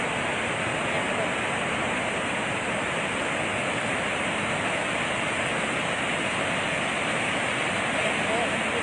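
Torrent of water released from the Magat Dam during flooding in Isabela, a loud, continuous roaring rush with no pauses or breaks.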